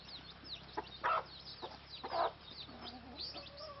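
A chicken gives a few soft, scattered clucks at a moderate distance, with quiet gaps between calls and no voices.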